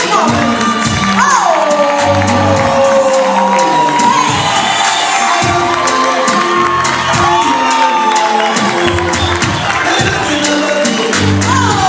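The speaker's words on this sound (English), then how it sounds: "Can you give her a wonderful applause?" Crowd at a fashion show cheers, whoops and shouts continuously and loudly, a dense, lively roar with applause mixed in throughout.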